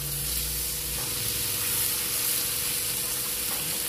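Coconut water poured into a hot frying pan after ingredients have browned, giving a loud, steady broadband sizzle and hiss that stays constant throughout, with no voices.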